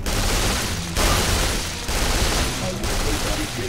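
Gunfire in Duke Nukem Forever, fired by the player's own Holo Duke decoy: a dense, continuous burst of loud shots that fills the whole stretch, broken by brief gaps near each second.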